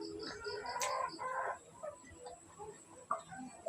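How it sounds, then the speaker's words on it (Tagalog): Chickens cluck softly nearby, with a brief rooster call and scattered bird chirps in a quiet outdoor setting. "Manok."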